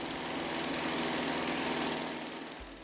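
A modified internal combustion engine runs steadily with its exhaust shut off, a loud continuous mechanical drone with rapid knocking pulses throughout, easing slightly at the end.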